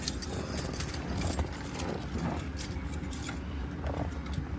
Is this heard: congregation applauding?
no